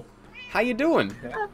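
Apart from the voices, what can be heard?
cat meowing in a video game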